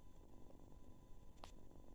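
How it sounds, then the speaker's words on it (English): A kitten purrs softly and steadily for about two seconds, very faint and close, with a couple of tiny clicks and no talking. "I'm sitting here with a purring kitten"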